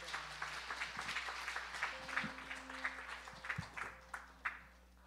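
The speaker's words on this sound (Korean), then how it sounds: "우리 박수로 환영하겠습니다" A church congregation at a Christmas Day Sunday service claps to welcome a reader, with soft, fairly distant applause that holds steady and fades out along with some faint background hum.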